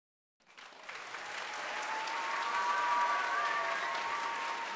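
Crowd applause in the Taskmaster VR video game, swelling quickly from silence into steady, dense clapping that holds loud and even to the end, with no voices on top.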